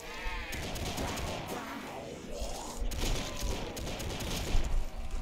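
Shotgun-type weapon firing repeatedly in Black Ops 3 Zombies on a custom Town map, a run of sharp loud blasts mixed with other game noise and chaotic effects.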